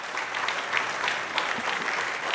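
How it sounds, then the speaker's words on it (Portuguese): Audience applause after a talk at a trends panel event, a dense steady wash of many hands clapping that holds evenly throughout with no voices rising above it. "Uma salva de palmas"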